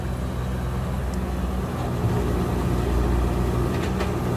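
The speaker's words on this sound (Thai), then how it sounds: "พามา ฟังเสียงเครื่องยนต์" The heavy diesel engine of a Komatsu PC100-2 excavator runs steadily at idle, a constant low rumble with a faint hydraulic whine rising and falling, close by with no talking.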